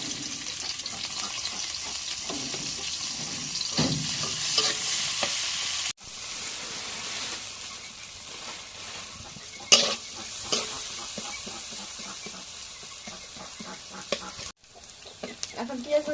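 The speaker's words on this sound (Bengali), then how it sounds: "এখন পেঁয়াজ মরিচ ভাজা হয়ে গেছে" Sliced onions and green chilies fry in hot oil in a wok, giving a continuous close sizzle with stirring scrapes and a few sharp clicks and knocks throughout.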